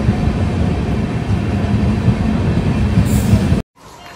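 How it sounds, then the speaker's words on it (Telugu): A train rumbling into a station on the Kurnool to Giddalur line, a loud, steady low roar of wheels and engine that runs continuously before cutting off abruptly near the end. "ఏదో ట్రైన్ వస్తుంది."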